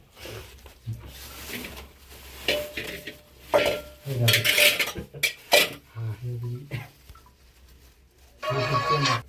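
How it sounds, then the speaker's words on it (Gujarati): At a camping site, onions are prepared for bhel with clattering dishes and utensils, knocking and scraping in uneven bursts close by, while a voice talks briefly at times. "હિતેશભાઈ ડુંગળી વાટી રહ્યા છે અને અમારે બનાવવાની છે ભેળ"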